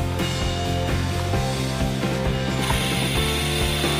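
Repaired Advance electric fan motor running, a steady mechanical whir with rhythmic ratcheting clicks, close and continuous with no talk.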